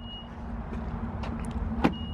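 An Alfa Romeo Giulia locks through keyless entry: a soft, brief mechanical clunk and faint chirps sit near the end over a low, steady background hum.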